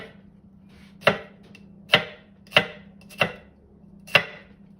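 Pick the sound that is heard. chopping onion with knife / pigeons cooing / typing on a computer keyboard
chopping onion with knife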